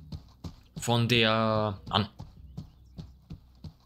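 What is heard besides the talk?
horse hooves stomping in video game Mordhau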